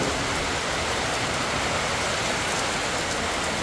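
Heavy rain pours down outdoors during a stretch of days of constant rain, a dense, steady hiss of downpour with no letup, close and fairly loud, with no voices.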